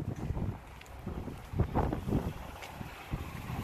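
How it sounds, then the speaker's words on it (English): Strong gusty wind buffets the microphone outdoors, roaring in broadband surges with rising and falling bursts, while a tarp-like cover flaps loosely nearby. "Super bad wind here today."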